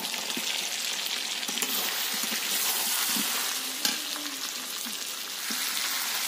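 Steady close sizzling and frying of chicken dopiaza cooking in oil in a pan as pre-fried potatoes go in, with a few soft stirring clinks and one sharp knock partway through.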